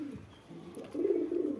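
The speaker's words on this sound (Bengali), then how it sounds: "এই সব কবুতর।" Pet pigeons kept at home coo in low, rolling calls, a softer phrase followed by a louder, sustained coo close by, with no talking.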